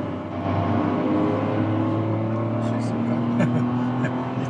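A Kia Ray in manual mode, already in second gear, accelerates at full throttle to overtake. A steady, strained engine drone and road noise continue throughout, with a voice talking over it.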